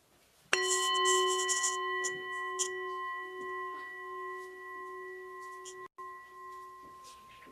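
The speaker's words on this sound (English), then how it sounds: "it also usually comes with the sound of the bell." A single bell struck once at a chalice lighting, its clear ringing tone with bright overtones sustaining and slowly fading over several seconds in a quiet room, with faint rustling around it.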